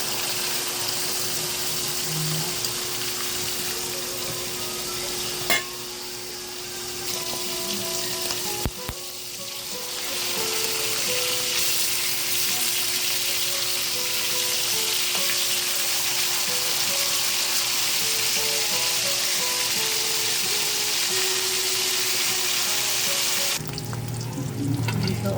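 Pork steak fries in a small pan with a steady, loud sizzle lasting throughout, close up, with occasional clinks and a brief louder spatter near the end.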